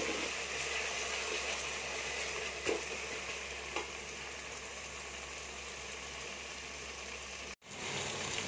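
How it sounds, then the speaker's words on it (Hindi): Garlic ginger paste and chillies fry in a pan for chicken achar gosht, a steady close sizzle hissing throughout with a couple of faint stirring knocks and a brief dropout near the end. "तीन से 4 मिनट इसकी अच्छी तरह भुनाई करेंगे ताकि जो हमारा लहसुन की जो स्मेल है वो ख़त्म हो जाए"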